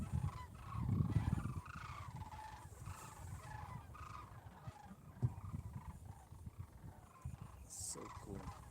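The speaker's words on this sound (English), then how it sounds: "You guys hear those sandhill cranes?" Sandhill cranes call from far off during a Sunday morning fishing outing, their rolling, trumpeting notes faint and scattered over a steady outdoor rumble, with no one speaking.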